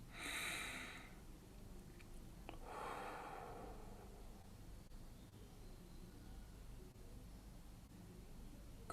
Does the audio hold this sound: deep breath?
yes